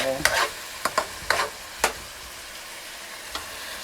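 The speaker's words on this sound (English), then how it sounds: "I wanted to have a nice sizzle." Seasoned potatoes sizzle in a hot pan, with a quiet frying hiss under several sharp bursts of stirring and scraping that come in a short cluster, then one last stir.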